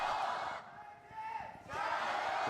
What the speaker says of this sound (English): Big noise from the crowd.